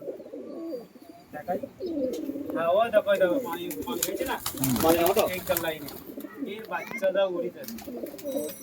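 Andra pigeons coo close by in repeated soft, throaty rolls, mixed with a voice talking over them.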